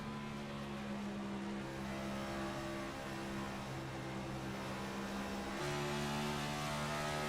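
Race car engine roaring steadily from a roof-mounted camera during a 200-lap race at the Monster Mile oval, sustained harmonic drone with a pitch shift partway through as the car runs side by side on track.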